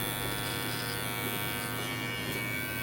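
Electric hair clippers shape a beard, giving a steady, close, unbroken buzzing hum with no speech.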